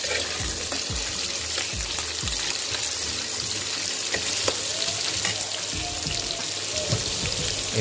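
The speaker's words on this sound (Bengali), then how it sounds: "এবার আলুটাকে ভেজে নেওয়া হচ্ছে।" Potatoes frying in a pan with cumin and cinnamon tempering, a steady broadband sizzle filling the whole stretch, with occasional stirring knocks and scrapes near and clear.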